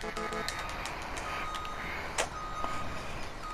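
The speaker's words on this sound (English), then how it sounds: "Back my truck in a parking spot." Truck reversing beeps in Farming Simulator 17: a short run of evenly spaced electronic beeps at the start over a steady engine drone, followed by a few clicks and knocks.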